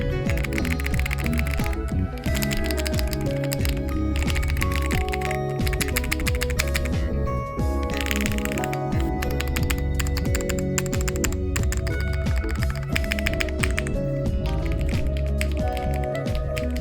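Typing on a FOX65 mechanical keyboard with its mute cotton removed gives a continuous, close run of loud, hollow keystroke clacks in quick, uneven rhythm, with no talking.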